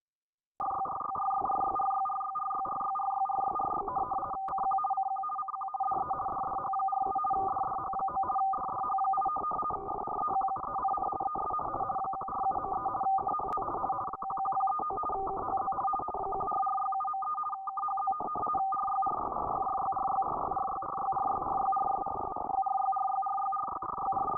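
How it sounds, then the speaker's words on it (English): FSK digital data signal picked up on a shortwave radio receiver: a continuous warbling two-tone stream, steady and unbroken for the whole stretch, with brief dropouts and faint static hiss, heard alone at moderate level. "This is coming through in a format called FSK, which I guess is like super Morse code."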